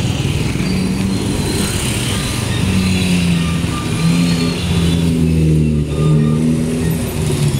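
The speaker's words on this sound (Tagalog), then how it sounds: "Traffic." Loud, close road traffic with car and motorcycle engines droning and revving as vehicles pass in a continuous stream, with no voices over it.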